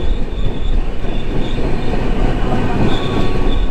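The Telangana Express at Mancherial railway station, riding in a 3-tier AC coach: a loud, constant rumble of wheels and carriage with thin, high squeals drifting in and out, no voices.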